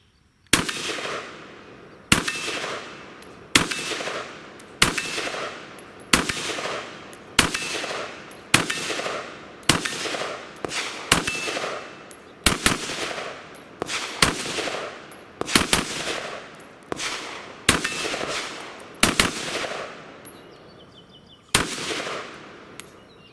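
A Sig Sauer 556 rifle fired outdoors in a steady series of about twenty single sharp, loud shots, each ringing off briefly before the next, evenly spaced at roughly one per second, with no talk.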